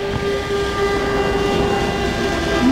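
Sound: warning siren

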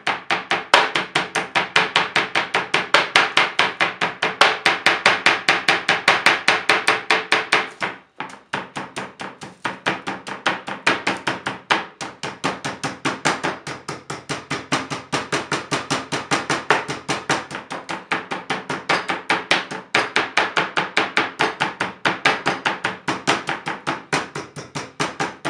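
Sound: pounding meat with tenderizer hammer

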